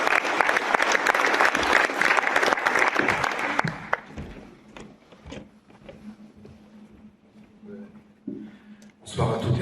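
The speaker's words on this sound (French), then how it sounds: "Je peux l'applaudir alors" Audience applause at a prestige business evening, dense loud clapping for about four seconds that thins out into a few scattered claps, with a voice talking faintly near the end.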